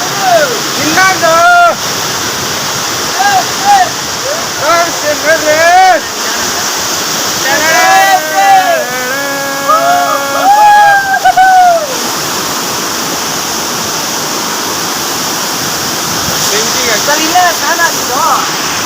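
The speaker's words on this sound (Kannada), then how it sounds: "ಇದೊಂದು ವಾಟರ್ ಫಾಲ್ಸ್ ಬಂದಿದೆ" Waterfall at the source region of the Netravati river, a steady broadband rush of falling water close by, with people talking over it throughout.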